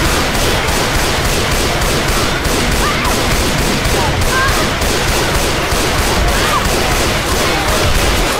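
Sniper rifle fire in a modded Left 4 Dead game, heavy relentless gunfire and crashing under a dense wall of loud chaotic noise with no break, faint voices buried beneath.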